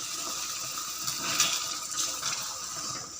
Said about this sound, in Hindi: अब हम इसमें ½ कप ऑयल डालेंगे